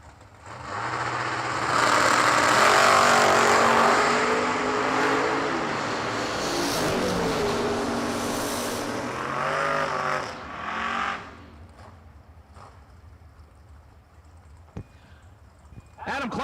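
Chevy Nova and Pontiac Firebird drag racing at the New Year Nationals, a loud engine roar rising and sweeping past, then fading away, with an announcer speaking over it.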